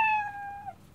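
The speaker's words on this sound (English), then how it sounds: "which is the meow sound, which sounds like this." Scratch's built-in library cat meow plays as a single clean, clear meow about a second long, bright and tonal with a falling tail at the end, heard alone.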